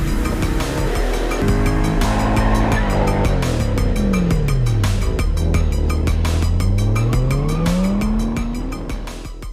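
A 2024 Corvette E-Ray, an all-wheel-drive hybrid, drives hard. The engine roars loud and continuous and sweeps up and down through the gears, with tire squeal and skidding and no talk.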